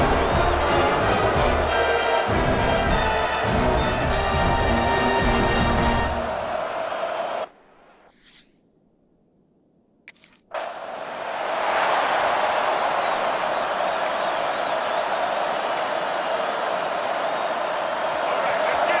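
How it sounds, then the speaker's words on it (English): Loud, steady stadium crowd roar fills a college football game on PS5 and cuts out to near silence for a few seconds before surging back. Music plays over the start. "It's early, but this crowd is fired up."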